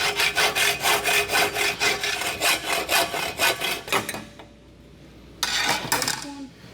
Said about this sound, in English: Gage, bring me the hacksaw from up there.